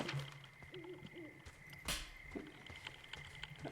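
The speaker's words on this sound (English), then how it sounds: "I can hear the hoot of the owl" An owl hoots in the forest of the video game Firewatch, faint and distant over a quiet ambient background with a soft click or tap partway through.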